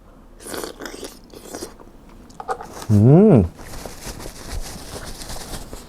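Someone eating pickled cockles dipped in a sour seafood sauce, with soft crunchy bites and chewing close to the mic, broken by a brief hum of voiced reaction in the middle.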